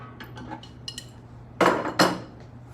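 Fitting on an acetylene cylinder being tightened with a wrench: a few faint metallic clinks and taps, then two louder scraping clanks close by, with a steady low hum underneath.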